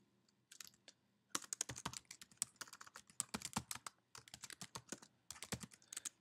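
Fingers type on a computer keyboard, close and fairly quiet, quick irregular bursts of key clicks with brief pauses between runs of keystrokes and no talking.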